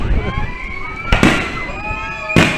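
Fireworks burst at night above an amusement park swing ride, two loud booming explosions about a second apart over a steady hum of crowd and ride noise.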